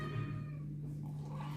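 A cat in a kitchen gives one faint, brief meow while breakfast is being prepared, set against a low steady hum.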